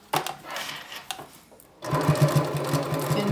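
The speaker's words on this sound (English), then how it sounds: "as I'm doing the second line of top stitching that I'm following that guideline" A sewing machine runs close by while top stitching a toiletry tote, starting with a short burst, pausing briefly, then running again in a steady, loud rapid needle rhythm.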